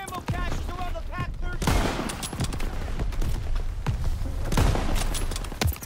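Dense gunfire from a World War II–era Call of Duty battle during the Normandy breakout, with rapid bursts and sharp reports layered into continuous loud chaos, some voices faintly in the mix.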